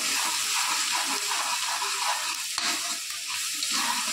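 Ginger garlic paste frying in hot oil, a close, steady sizzle with bubbling crackle and occasional stirring scrapes throughout, no voices.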